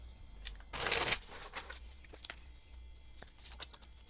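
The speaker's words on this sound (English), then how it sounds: "We'll do another shuffle." Tarot cards shuffled by hand: one louder burst of riffling near the start, then scattered soft taps and flicks of the deck, close but quiet in a still room.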